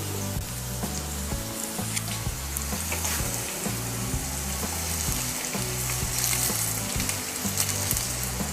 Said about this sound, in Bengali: সবজির সঙ্গে ভাতটাকে আমি হালকাভাবে মিশিয়ে দেব।